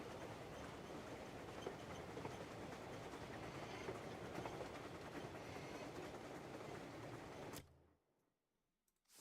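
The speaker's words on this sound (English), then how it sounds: "Train doesn't stop for nobody." A moving train rumbles and clatters along the rails in the video game Crimson Desert, steady and full for several seconds before cutting off abruptly into near silence.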